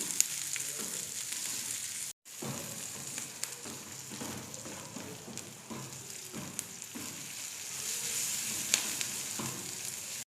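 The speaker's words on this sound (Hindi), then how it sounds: "घी शामिल करने के बाद हम इसमें डालेंगे 2 अदद प्याज। प्याज को हमने ब्राउन कर लेना है।" Two onions frying and browning in ghee in a pan, a steady close sizzle with soft crackles and occasional stirring scrapes, continuous and fairly quiet with no talk.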